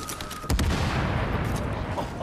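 A sudden loud explosion in the shooter game The Division bursts in and leaves a sustained crackling, rumbling tail of gunfire-like debris noise, with no talking over it.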